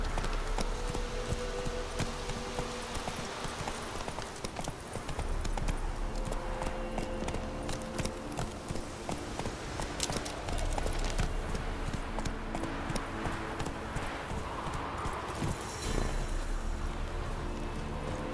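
A horse gallops along a road in The Witcher 3, hooves clattering in a fast, steady rhythm under continuous game ambience and music.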